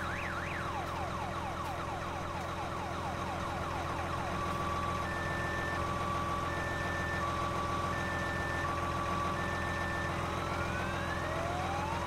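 A truck engine drones steadily in Farming Simulator 19 throughout, with repeated reversing-style beeps and rising electronic tones layered over the dense low rumble and no talking.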